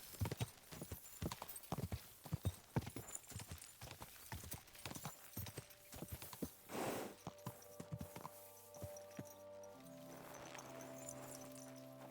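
Horses in the medieval video game Kingdom Come Deliverance II move at speed, rapid hoofbeats clattering in quick uneven bursts, with a snort or whinny partway through as the hooves fade into ambient tones.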